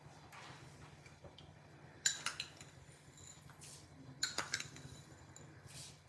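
A metal spoon clinks against a dish in two short bursts while sugar is added for a recipe, light taps close by and otherwise quiet.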